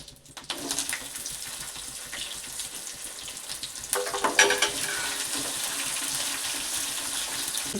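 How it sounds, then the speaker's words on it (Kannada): Mustard seeds, curry leaves and chopped onion sizzle and crackle in hot oil for a home-made sambar tempering: a steady, close frying hiss with scattered pops, swelling louder partway through as more goes into the pan. "ಸ್ವಲ್ಪ ಎಣ್ಣೆ ಹಾಕಿ ನಂತರ ಸಾಸಿವೆ ಕರಿಬೇವು ಒಂದು ಈರುಳ್ಳಿನ ಹೆಚ್ಚಿಟ್ಕೊಂಡಿದ್ದೀನಿ"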